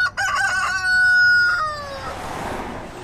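A rooster on a farm in southwest Miami-Dade crows loudly and close by, a long harmonic cock-a-doodle-doo that trails off into rustling farmyard noise.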